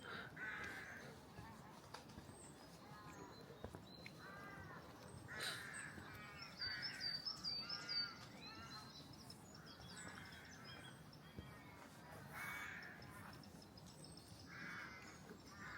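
Crows caw repeatedly outdoors in St Lawrence, Isle of Wight, quiet and somewhat distant, with other birds chirping softly in the background.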